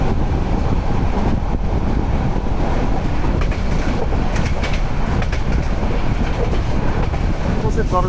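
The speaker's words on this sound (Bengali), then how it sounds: "আমাদের 3000 সিরিজের যে লোকো মহানগর প্রভাতীকে বেশ জোরে সোরে তার সর্বোচ্চ জোর দিয়ে আর কি টেনে নিয়ে যাচ্ছে।" The Mohanagar Provati train, pulled at full power by a 3000 series locomotive, rumbles steadily from inside a carriage, with loud continuous rolling noise and faint clicking of the wheels.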